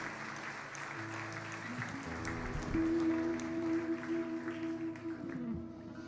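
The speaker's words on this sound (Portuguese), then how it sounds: "Você pode aplaudir a Jesus?" A church congregation claps along with music, a steady wash of many hands over sustained tones that grow louder midway and then ease slightly toward the end.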